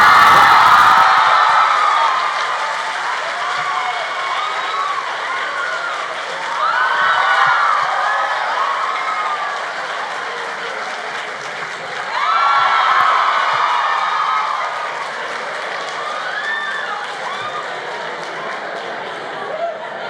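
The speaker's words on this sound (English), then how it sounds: "hearing you guys cheer for that" Live conference audience at an animation talk cheers and applauds in a sustained roar with whoops, swelling twice before settling into steady clapping, loud and close throughout.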